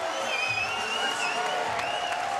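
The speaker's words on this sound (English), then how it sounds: "The crowd is on their feet." A boxing crowd at a 62 kg amateur bout on its feet, applauding and cheering steadily with a dense wash of claps and shouts throughout, loud and continuous, with a few whistles standing out.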